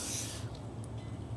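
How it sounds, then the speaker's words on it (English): Silicone spray lubricant hisses from an aerosol can onto a part for a 1988-98 Chevrolet Silverado, a short broadband spray burst at close range fading into low background hum. "Gonna go ahead and lube this down with some silicone spray"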